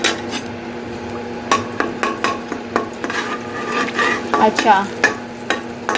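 Ginger garlic paste fries in a pan with a steady sizzle while a spoon stirs and scrapes against the metal in repeated clinks and knocks, close and loud, with a brief spoken word.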